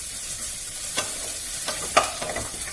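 Tomatoes going into a pan of sizzling, spicy chicken bhuna masala, with a steady frying hiss and a few soft stirring scrapes and clacks near the start and middle.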